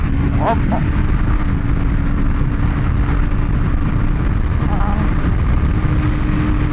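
A BMW M1000RR motorcycle runs loud and continuous, its engine droning steadily under a heavy rush of wind as it gathers speed through the gears.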